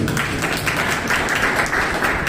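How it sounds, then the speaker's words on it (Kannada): An audience at a motivational speech bursts into loud, dense clapping that stays steady throughout, with no voices over it. "ಬಿಗ್ ಫ್ಯಾನ್ ಒಂದು ಜೋರಾಗಿ ಚಪ್ಪಾಳೆ ಇರಲಿ"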